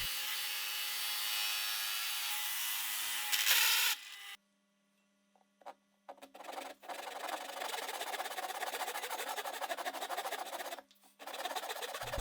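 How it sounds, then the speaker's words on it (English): A hole saw cuts through a wooden fence board in a steady, loud grinding rasp, breaking off into near silence for a moment before the abrasive drilling resumes and carries on to the end. "I drill both holes on the fence."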